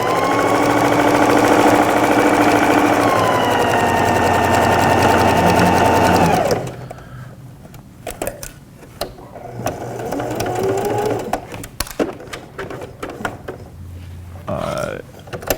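A sewing machine runs steadily along the sides of a piece of fabric, loud and close, then stops, followed by lighter handling clicks and rustles.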